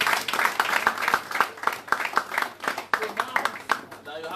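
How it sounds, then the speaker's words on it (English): Scattered audience clapping at a town hall meeting and fundraiser in London, uneven and moderately loud, with talk mixed in over the claps. "You should clap for yourself."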